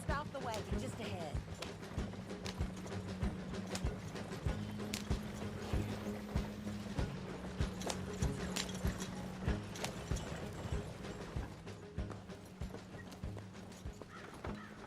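Horse hooves clip-clop steadily with a wagon rolling along in Red Dead Redemption 2, a continuous rumbling rhythm with creaking mechanisms and an occasional whinny, while characters talk over it.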